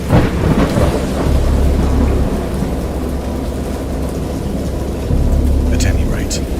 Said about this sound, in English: I know that I heard pearls of thunder